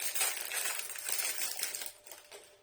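Plastic wrapping on a mini Colin the Caterpillar chocolate sponge cake being torn open by hand, close crinkling and crackling in short bursts that fade toward the end.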